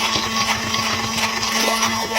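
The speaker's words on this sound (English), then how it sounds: "I'm just using hand blender. I'm just gonna run it through here" A hand blender whirs steadily through gluten-free vegetable crepe batter, a close, continuous motor drone with a grinding buzz that holds for the whole stretch.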